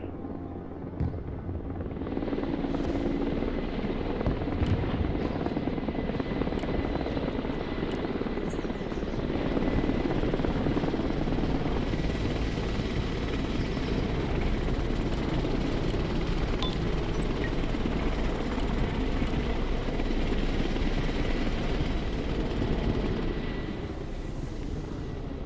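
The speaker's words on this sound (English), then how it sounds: "It was an interesting helicopter opener" A helicopter in the video game Broken Arrow, its rotor and engine roaring steadily and loudly throughout, with faint clicks and distant booms mixed in and no talking.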